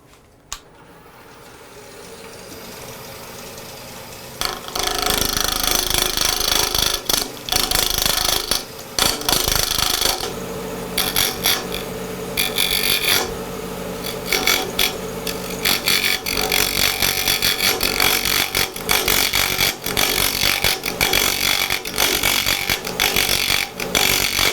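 A wood lathe rounds out a can cap blank: a motor hum builds, then loud continuous chattering and scraping from the tool cutting the spinning wood, with rough bursts throughout.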